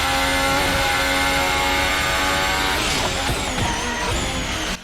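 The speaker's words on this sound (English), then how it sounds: "A few moments just to enjoy the engine sounds." Formula 1 car engine in the F1 2020 racing game at the Portuguese Grand Prix, Portimao, a loud sustained high-revving whine holding steady, then shifting pitch near the end as the car changes speed.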